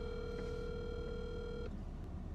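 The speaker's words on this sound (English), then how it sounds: "Call Nate." Phone placing a call while parked near a fireworks venue, giving a short steady electronic tone for about a second and a half before it cuts off, faint and alone.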